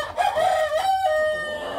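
Several roosters crow in a barn, one long strained crow rising and holding close by, with faint clucking beneath and no talk.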